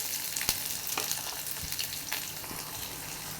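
Small shallots fry in hot oil with mustard seeds and fenugreek for a Kerala-style moru curry, a close, steady sizzle broken by sharp crackles and pops.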